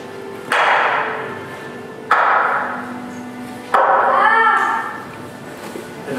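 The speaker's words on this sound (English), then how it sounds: "they hammer them fast too" Three loud hammer blows striking nails into wood during a Stations of the Cross crucifixion performance, each a sharp impact with a ringing decay, spaced about one and a half seconds apart and close by.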